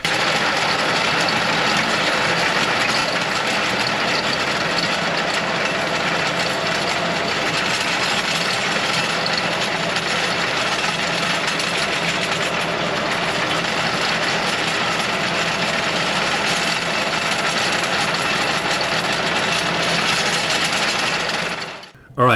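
A tractor engine runs steadily and loudly close by while a front rock rake grades and spreads stone to fill low spots, a continuous heavy drone with no pauses until an abrupt cutoff at the end.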